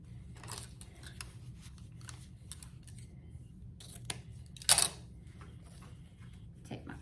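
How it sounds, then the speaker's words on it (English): Left-handed scissors snipping through a long paper streamer for a fall decor craft, a few quiet crisp cuts over a low background hum, with one louder snip near the middle. "So I'm going to cut a long streamer. And these are left-handed scissors."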